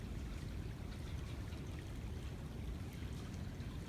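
Steady broadband rushing of flowing water, constant and fairly distant, with no voices or other distinct sounds.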